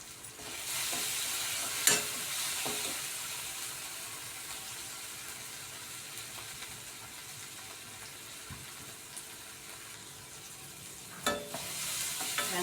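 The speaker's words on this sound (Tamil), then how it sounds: "வெங்காயம் தக்காளி வதங்கிடுச்சு." Onion and tomato sauté in a pan, sizzling steadily with occasional louder stirring scrapes and clinks near the start and end.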